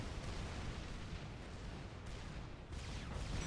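T3 mobile artillery fires in a large 6v6 battle in the strategy game Supreme Commander, heard as a faint, continuous rumbling barrage of distant blasts with no single shot standing out.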